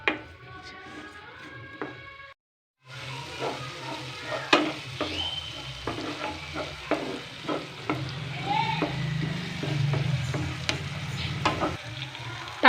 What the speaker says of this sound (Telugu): టమాటా వేగింది కదా,